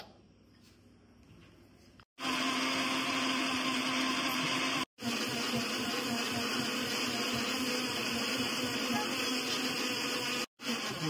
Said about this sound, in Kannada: ಓಕೆ, ಸೊ ಇದನ್ನ ಈಗ ಗ್ರೈಂಡ್ ಮಾಡ್ಕೊಳ್ಳೋಣ. ಕಂಪ್ಲೀಟ್ ಆಗಿ ಗ್ರೈಂಡ್ ಮಾಡಿ